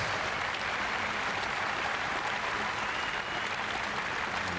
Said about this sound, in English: Well appreciated by a nice crowd that is building up here in Nottingham today